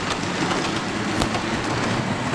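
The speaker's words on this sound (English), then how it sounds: "and you hear the train going around it" A toy train circling a Christmas village display, a loud, continuous whirring rumble with faint rhythmic clicking from the track, steady and close with no speech.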